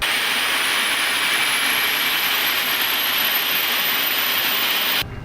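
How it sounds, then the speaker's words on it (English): A Rolls-Royce jet engine throttled toward max power on a test bed, a loud roaring rush with a rising whine that holds steady before dropping off sharply at the end. "the pilot takes control of the engine with the throttle, and we can move that throttle up to max power."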